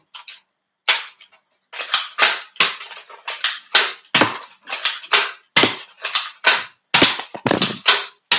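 A toy gun fires a long run of sharp, loud cracks, close by, in irregular bursts with short silent gaps between them and no voices.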